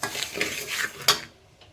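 Broken rice dry-fried without oil in a pan for North Karnataka-style upma, stirred with a utensil that scrapes and rattles in close, uneven strokes, one sharper clink near the end before it falls quiet.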